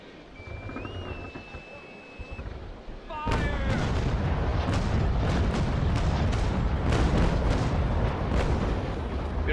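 Converged broadside of naval cannons in the Naval Action sailing-warship game: a loud, dense roar of overlapping cannon blasts begins after a quiet opening with a brief tone, then sustained rumbling echoes continue to the end.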